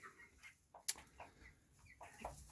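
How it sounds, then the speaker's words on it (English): Laying hens in a chicken coop give a few short, faint clucks spaced across the moment, with one sharp click partway through. "So here we keep the main hens."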